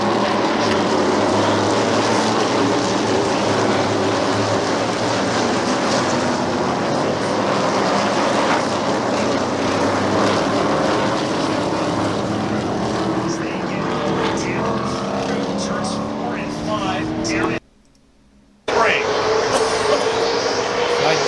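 Racing engines roar steadily past, rising and falling as cars speed down the front straight at Sebring, with a brief dropout near the end.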